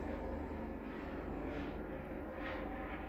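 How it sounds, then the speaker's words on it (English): Steady broadband roar of an aircraft passing overhead in a normally quiet area near Disney Springs, loud and continuous throughout with slight swelling, no voices. "You don't usually hear planes over here, or helicopters."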